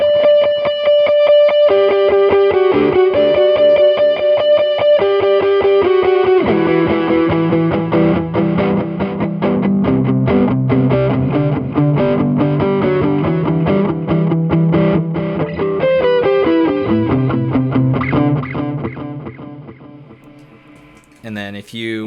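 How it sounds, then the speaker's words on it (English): A sustained electric guitar lead rings out through distortion, compressor and delay pedals on a worship pedalboard, holding long singing notes and repeating phrases with echo trails, loud and unaccompanied throughout. "if I kill the reverb and put on the distortion, the compressor will give me a nice sustain and the delay will make it sound really nice"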